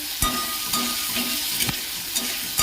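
Spices fry in a pan with a loud continuous sizzle, broken by periodic scrapes and knocks of a spatula stirring them.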